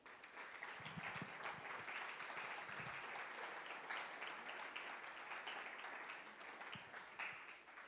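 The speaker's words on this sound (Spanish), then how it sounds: "Dele un aplauso al Señor." Congregation applauding during a Spanish-language church service, sustained and fairly even clapping from a room full of people, somewhat distant and soft.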